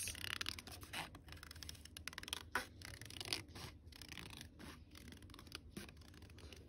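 Scissors snip and scrape through paper along a line in quiet, irregular bursts of close, faint cutting sounds.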